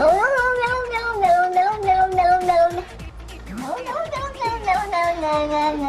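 A cat yowls loudly with long, wavering, drawn-out cries. One sustained call is followed by a brief pause and then another rising and falling wail.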